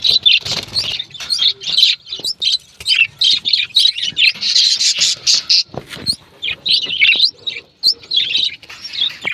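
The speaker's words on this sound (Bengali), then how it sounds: "ওই যে মায়া পাখি আর এই মদ্দা পাখি" A colony of pet cage birds kept as pairs, chirping and squawking in a busy, overlapping chorus of high tweets, loud and near, with occasional wing flutters and faint background voices.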